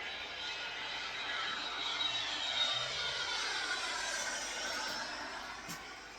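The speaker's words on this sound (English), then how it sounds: "They had the jet in the driveway." A jet aircraft roars as it takes off, a broad, sustained rushing noise that swells and then slowly eases, with no voices.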